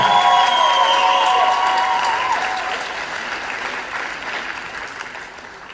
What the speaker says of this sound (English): Can we just give a round of applause for all this?